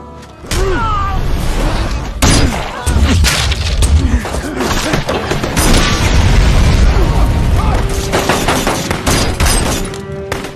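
Fierce gunfire exchange in an action movie scene, with a string of loud shots and booming bursts over a dense, continuous score and effects bed, voices faintly mixed in.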